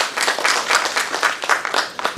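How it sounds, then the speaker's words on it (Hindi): An audience at a musical theatre performance in Lucknow claps loudly and steadily, with individual hand claps standing out in a brief, close round of applause. "जोरदार तालियां मैम के लिए।"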